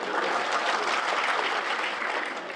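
Audience applause at a Tamil motivational talk, a steady dense wash of many hands clapping that fills the whole stretch at even loudness, with no voices over it.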